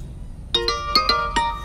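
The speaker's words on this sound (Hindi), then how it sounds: "फोन आ गया" A phone ringtone sounds for an incoming call outdoors beside a grassy spot where a vehicle is parked, playing a clear melodic series of bright chime notes in a quick tune.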